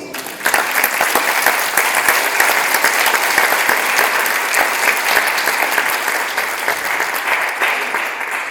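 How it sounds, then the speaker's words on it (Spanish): A church congregation gives loud, sustained applause to the Lord, dense clapping from many people that swells in quickly and keeps up for over eight seconds, close and full. "Denle un fuerte aplauso al Señor."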